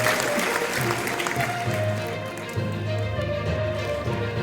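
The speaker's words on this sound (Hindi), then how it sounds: "पुनः जोरदार तालियों के साथ स्वागत करें माननीय मंत्री जी का।" Audience at an official book release ceremony applauding to welcome a minister, a dense, steady wash of clapping from many hands throughout, fairly close and loud.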